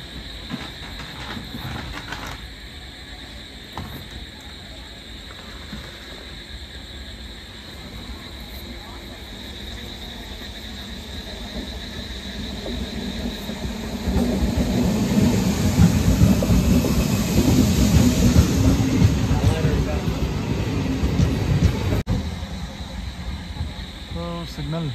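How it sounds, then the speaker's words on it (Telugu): Passenger train rolling through a crossing on a single-line route, a steady rumble with clattering wheels that swells loudly in the latter half, mixed with the background noise of a carriage. "క్రాసింగ్ పెట్టారు. సో సింగిల్ లైన్ కాబట్టి ఇది ఒక ప్రాబ్లం ఈ రూట్లో"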